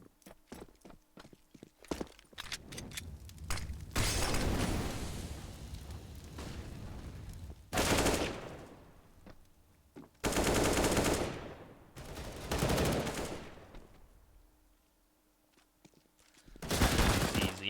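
Rapid pistol gunfire rings out in a Counter-Strike match on the Cache map, with sharp clustered shots and loud bursts at irregular intervals, some rounds fired in quick succession and others echoing alone.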